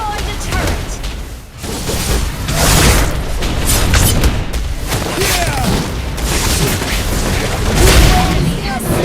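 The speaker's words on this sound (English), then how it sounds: "Your team destroyed the turret!" A turret is destroyed in the Mobile Legends game, booming blasts and dense battle effects rolling continuously, loud and close, under an announcer's voice.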